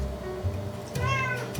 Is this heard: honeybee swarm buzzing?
no